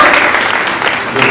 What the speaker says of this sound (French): Je vais demander à la salle d'applaudir nos panélistes